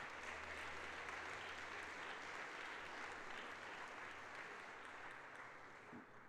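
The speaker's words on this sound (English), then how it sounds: "Let's give her a round of applause." Steady applause from a large audience at a 95th birthday celebration honoring a reverend, welcoming a United Methodist bishop; dense, continuous clapping that holds for several seconds and then begins to thin toward the end.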